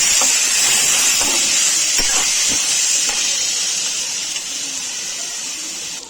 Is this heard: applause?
no